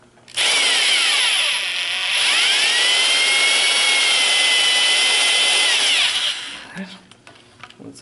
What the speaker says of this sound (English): So first I'm drilling through the port.